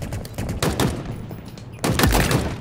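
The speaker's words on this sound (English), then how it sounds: "Took me a few more shots to get him, but we did." Gunfire in a first-person shooter game crackles in rapid bursts, several sharp shots in a cluster then another loud volley after a brief pause, close and punchy without talking.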